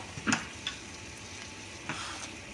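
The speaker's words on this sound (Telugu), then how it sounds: "వేరుశనగకాయ గుళ్ళు సగం వేగాక" Peanuts frying and sizzling in a pan, a soft steady crackle with a few sharp pops and stirring clicks, close and alone.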